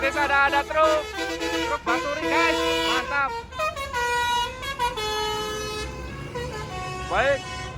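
A truck in a bus convoy sounds a basuri horn: loud, close, tuneful phrases of sliding notes in quick runs, pausing briefly and returning with a short warble near the end.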